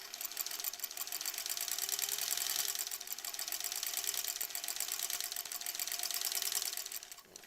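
A sewing machine stitching a holiday embroidery project, a fast, even, continuous mechanical whir and tapping that runs steadily and eases off at the very end, with no talk.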